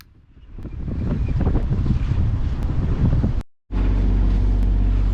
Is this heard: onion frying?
no